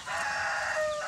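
A single drawn-out dove call, close and fairly clear, a hoarse crowing-like note lasting about a second.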